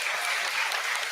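Audience applause for the musicians after an orchestral performance, a brief, dense burst of clapping from a full hall, steady and loud.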